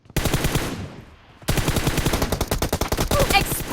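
Rapid automatic gunfire in PUBG Mobile, a fast, evenly spaced burst that stops for a moment, then resumes as a long, loud stream of shots up close.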